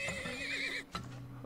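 A horse whinnies in the oil-drilling game Turmoil, a loud wavering neigh running for most of a second, then a short thump and quieter game sounds after it. No one speaks.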